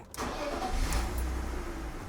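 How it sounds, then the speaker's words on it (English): A BMW car engine is fired up after a repair. After a brief crank it catches at once and settles into a steady, fairly loud idle close by, with no voices. "So let's disconnect, fire the car up, and see what happens."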